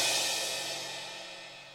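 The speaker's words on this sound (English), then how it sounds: "This is a crash from this library." A single crash cymbal sample from a drum library rings out already sounding, a bright washy shimmer that slowly decays, faint and alone.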